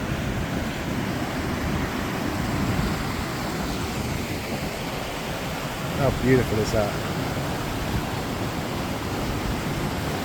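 A waterfall in the Scottish wilderness roars as a steady, full rush of water. A voice speaks briefly over it partway through.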